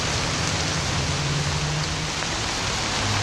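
Rain falls steadily on a poncho beside a freshly lit campfire in wet weather, a dense, even hiss of drops that stays constant and fairly close throughout, with a low rumble underneath.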